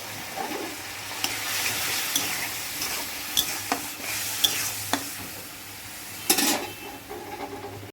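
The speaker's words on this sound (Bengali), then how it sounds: "ভালো করে মশলাটা কষিয়ে নেব।" Bengali masala paste with Kashmiri chili powder is fried in oil for a bata fish curry, a soft continuous sizzle broken by sharp spoon scrapes and knocks against the pan as it is stirred.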